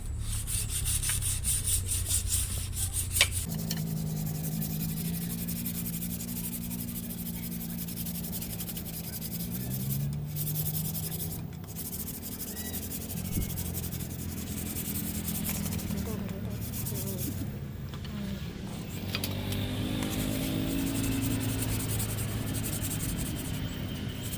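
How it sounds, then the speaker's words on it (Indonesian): Sandpaper rubs by hand over cut wooden parts for a flower-pot table, a close, continuous scratchy back-and-forth with a few pauses and knocks. "sekarang kita haluskan dengan hamplas"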